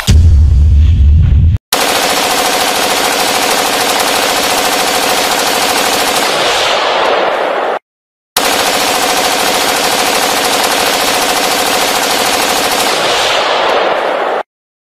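A motorcycle engine being tuned at a motor show roars in two long, very loud full-throttle bursts of harsh, rattling exhaust, each cut off abruptly, with a brief lower rumble before the first.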